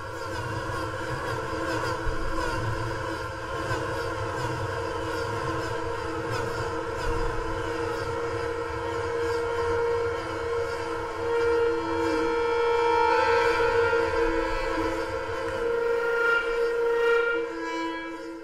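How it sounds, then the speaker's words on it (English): A homemade whirling humming cup instrument hums with sustained, layered tones that waver and shift in pitch, droning steadily without pause, with no voices. "I'm going to show you how to make a humming cup."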